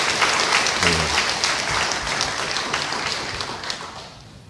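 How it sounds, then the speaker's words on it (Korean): A church congregation at a 50th-anniversary worship service breaks into warm applause to welcome someone, dense steady clapping filling the room and slowly tapering, with a voice briefly heard over it. "우리 뜨거운 박수로 환영하겠습니다."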